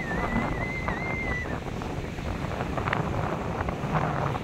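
Steady wash of sea surf rolling in, mixed with gusty wind buffeting the microphone, continuous and fairly loud throughout.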